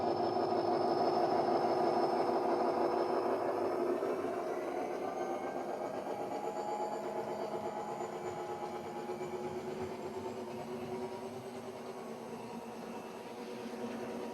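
A model Class 59 locomotive sound decoder plays EMD engine sound: a steady diesel throb with a whining higher tone, loud at first, then easing to a slightly quieter, even idle.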